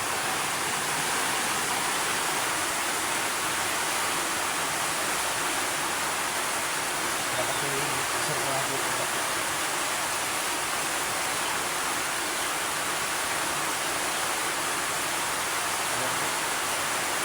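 Heavy rain pours steadily with a dense, even hiss that never lets up, moderately loud and close, with no voices.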